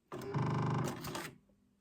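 A sewing machine stitches a short run through paper, its motor whirring close and steady for about a second before winding down to quiet.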